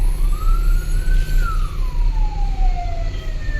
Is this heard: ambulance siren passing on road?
yes